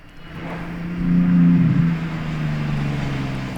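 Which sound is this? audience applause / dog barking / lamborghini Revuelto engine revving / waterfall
lamborghini Revuelto engine revving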